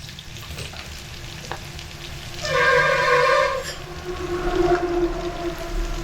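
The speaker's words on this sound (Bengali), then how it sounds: "একটু চামচ দিয়ে হালকা নেড়ে দিচ্ছি" Banana flower dal in a pan with added hot water, stirred lightly with a spoon, giving a soft continuous bubbling sizzle with gentle scraping and a brief louder burst in the middle.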